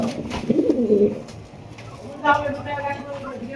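Indian pigeons being shown for sale coo in low, throaty bursts nearby, with a soft pause and then more calls alongside faint background activity.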